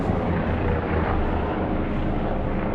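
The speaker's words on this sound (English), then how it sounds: "There they go in their helicopter." A helicopter flies over a wooded tor, heard as a loud, steady, broadband rotor-and-engine rumble that fills the whole stretch without fading, with no voices.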